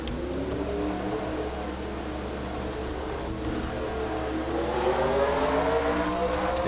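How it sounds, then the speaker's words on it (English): Race car engines in a NASCAR video game on the Green Valley Ring road course, a steady layered drone of several cars rolling off together, pitches slowly rising as they accelerate, with no talk. "And the cars are rolling off the track."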